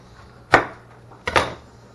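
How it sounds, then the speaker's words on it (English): A knife chopping through the thick bottom stem of an artichoke, two sharp close thuds on a cutting board about three-quarters of a second apart. "I'm going to cut off this big giant bottom stem here."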